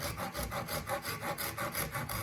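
A hand saw cuts through walnut graft scion wood in steady back-and-forth rasping strokes, about five per second, close and fairly quiet, with no talking.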